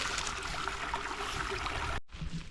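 A creek in the Birkhead Wilderness of the Uwharrie area flows over rocks near an old rock dam, a steady broadband rush of water close by that cuts off abruptly near the end.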